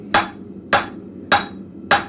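Four evenly spaced, sharp hammer blows ring out on hot metal at a blacksmith's forge, each strike bright and resonant with a short decay, roughly half a second apart, close and loud with no talk.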